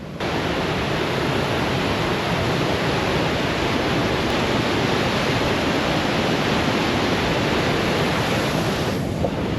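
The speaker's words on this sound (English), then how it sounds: "we got this waterfall right here." A waterfall at a mountain campsite in the Rockies, a loud, constant, close rush of falling water that fills the whole clip without pause.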